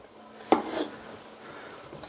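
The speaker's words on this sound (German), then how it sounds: "dann einfach die halbieren, die Kartoffeln. Dann in die Pfanne rein" Halved potatoes are dropped into a kitchen pan, a single sharp clatter followed by a brief scraping rustle, then quiet.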